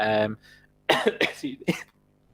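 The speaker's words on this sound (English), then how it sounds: "I'll let you cough it out." A voice at the start, then several rough coughing bursts in quick succession, close and fairly loud.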